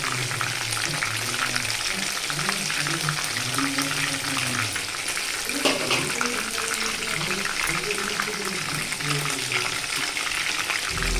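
Prawn pakodi frying in hot oil gives a steady, close bubbling sizzle that runs evenly throughout, with a low tonal hum beneath it.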